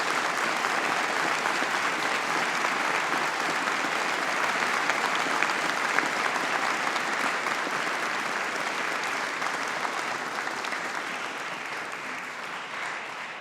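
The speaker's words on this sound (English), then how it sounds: "Let's give all of our graduates a big round of applause." A graduation ceremony audience at Strathclyde Business School in Barony Hall claps for the graduates, sustaining dense, loud applause that continues steadily and eases only slightly toward the end.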